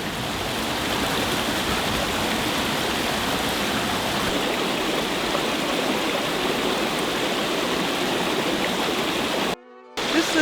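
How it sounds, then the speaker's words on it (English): Small unnamed tributary of Cranberry Creek in a nature preserve flowing, a steady close rushing and babbling of water that fills the whole stretch, briefly cut off near the end. "This little unnamed tributary of the Cranberry Creek is one of my favorite places in this preserve"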